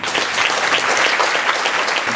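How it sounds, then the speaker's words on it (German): Sustained applause from the audience at a book reading for author Harald Friesenhahn, a dense, even patter of many hands, close and fairly loud throughout. "Ich bitte um einen Applaus für Harald Friesner."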